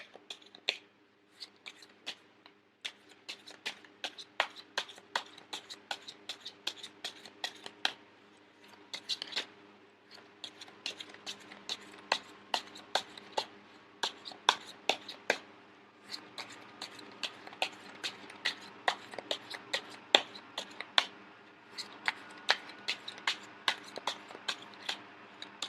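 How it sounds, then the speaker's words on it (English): Continuous rapid card shuffling with sharp, rhythmic snaps and riffles, close and steady throughout with brief pauses. "I am going to shuffle until the first card pops out"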